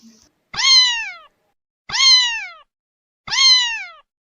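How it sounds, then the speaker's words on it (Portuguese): Three separate meows from a cat, each short and clear with a falling pitch, spaced evenly with silence between them. "O miado do gato tem um som curto."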